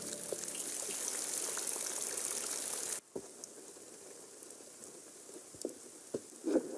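Rain falling at a river during a lightning storm, a dense hiss of rainfall for about three seconds that cuts off abruptly, leaving quieter drips, patter and scattered knocks.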